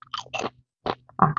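Three crisp, close crunches of someone biting and chewing crunchy truffle-flavored potato chips, separated by short silences.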